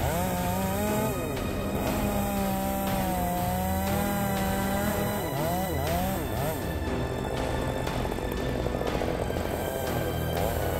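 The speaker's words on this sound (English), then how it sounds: "The Echo 800P chainsaw is specifically manufactured to cut large and thick woods like this." Echo 800P chainsaw cutting through thick wood, a loud, continuous engine whine that rises and dips in pitch as the bar bites into the log, heard without pause throughout.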